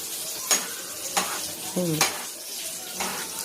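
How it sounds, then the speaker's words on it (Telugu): A child slowly stirs food in a cooking pan over a steady sizzle, with a few distinct spoon clinks and scrapes spaced apart and a short voice partway through. "సరే కలుపు మెల్లిగా."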